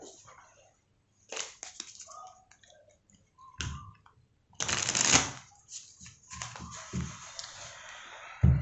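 Black Oracle tarot cards being shuffled and handled, giving bursts of dry papery riffling and clicking that come and go in uneven clusters with quiet gaps between them, close and moderately loud, with no talking.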